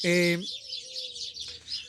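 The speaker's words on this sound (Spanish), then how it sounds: "¡Ay, qué bonitos siguen los pájaros!" Birds chirp and twitter in a continuous high, bright stream outdoors, preceded by a brief harmonic burst at the start, with no talk over them.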